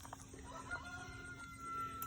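Chickens cluck softly in the background, a few faint calls over quiet outdoor hum.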